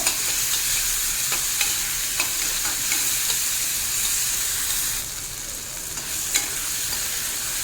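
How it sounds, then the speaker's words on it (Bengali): Tomato frying with ginger, garlic, onion and green chili in hot oil, a loud continuous close sizzle with periodic spatula scrapes and stirring taps throughout, no voices. "টমেটোটাকেও ভালো করে ভেজে নেব"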